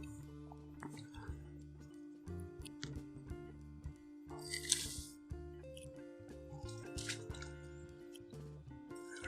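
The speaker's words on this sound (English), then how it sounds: "So we're going to go ahead and add all this to our hot water." Pickling spice and brown sugar tipped into a pot of hot water for a ham curing brine, giving close, soft patters, drips and scattered rustling pours with no one talking.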